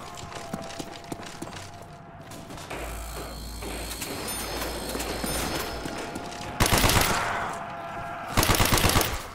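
MP40 submachine gun firing in Call of Duty Zombies on Kino Der Toten, close and loud, with two sustained automatic bursts near the end following scattered shots and rumbling game noise.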